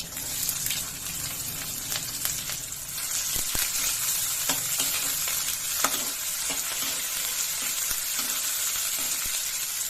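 Cumin seeds and onion fry in a hot pan for a quick vegetable pulao, with a continuous loud sizzle and crackle and scattered stirring clicks throughout, no voices.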